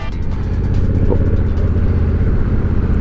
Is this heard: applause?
no